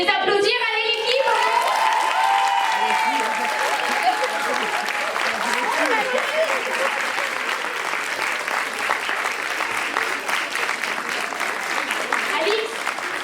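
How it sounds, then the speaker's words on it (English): An audience applauds a team brought up on stage at a panel event, sustained, dense clapping with some cheering that stays steady and loud from start to finish, with a brief voice at the opening. "Vous pouvez les applaudir, allez l'équipe."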